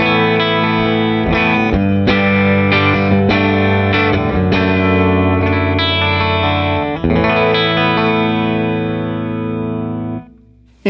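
Electric guitar chords through the clean vibrato channel of a Deluxe Reverb reissue amp ring out loud and close with a wavering, shimmering tone, several strums sustaining before cutting off near the end.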